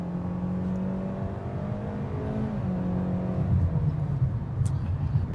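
A Kia K4 sedan's base 2-liter four-cylinder engine pulls hard at full throttle, its droning tone climbing steadily in pitch from inside the cabin, with no talking.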